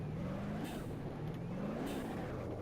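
Tyres spin as a car accelerates in BeamNG.drive, giving a steady, faint engine drone with a slowly rising whine and a brief swell of broadband noise as the wheels break loose.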